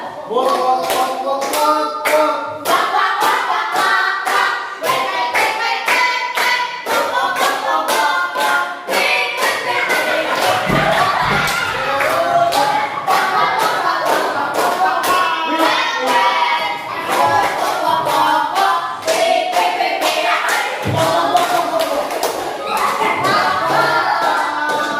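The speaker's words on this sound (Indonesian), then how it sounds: "Ya, tepuk tangan untuk kita." Schoolchildren in a classroom clap their hands in rapid unison during an ice-breaker game, sharp claps close by in steady bursts with short pauses, some excited voices mixed in.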